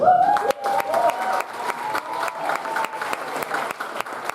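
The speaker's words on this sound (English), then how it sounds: "Had a round of applause for Alaisha also." A seated audience at a Zoroastrian community session applauds for a speaker, steady clapping at moderate volume with a few sharper claps, a sustained tone lingering under the start.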